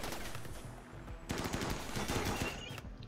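Automated turrets in the colony-survival video game RimWorld fire in rapid machine-gun bursts, a quick rattling stream of shots that grows denser and louder partway through.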